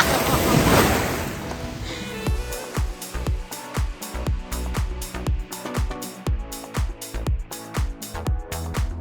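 Strong wind blows at the coast in Queensland, Australia, buffeting the microphone with a loud roaring gust at first, then easing under a steady series of regular, rhythmic thumps.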